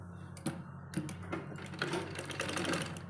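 Sewing machine stitching a bias strip onto the neckline of a small baby frock, a steady fast mechanical chatter with light rhythmic ticks, running continuously and fairly close.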